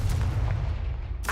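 Confringo fire spell in Hogwarts Legacy: a loud, booming low-end blast with repeated punchy thumps through the clip and a bright crackling burst near the end, close and dense.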